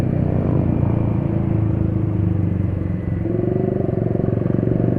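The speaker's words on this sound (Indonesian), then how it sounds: "Oh, kok betah pakai knalpot berisik gitu ya." A motorcycle idles and revs nearby with a loud, rattling exhaust, a brief dip in the rumble before it picks up again.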